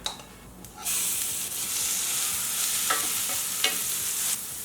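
Mustard seeds, cumin, chana dal and green chili paste frying in hot oil, starting with a sudden hiss that settles into a steady, soft, close sizzle with a few small pops and stirring clicks.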